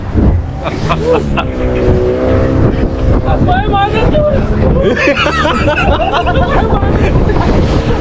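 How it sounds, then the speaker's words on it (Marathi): A motorboat on a coastal ride at Malvan in Konkan runs loudly over waves, its engine roar and wind buffeting mixed with excited, shouting voices throughout. "आणि मस्त अशी बोट सुरू झालंय बघा लाटावर जी बोट आदळते ना"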